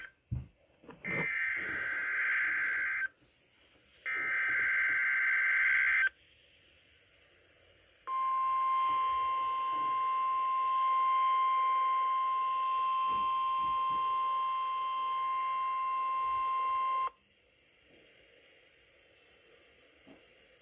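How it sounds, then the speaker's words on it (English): A NOAA weather radio warning alarm activated by the National Weather Service for central and southern Minnesota and west central Wisconsin: two short steady tone bursts, then one long sustained alarm tone of about nine seconds, loud and alone. "National Weather Service in Chanhassen, Minnesota has just activated the warning alarm on 13 weather radio stations across central and southern Minnesota and west central Wisconsin"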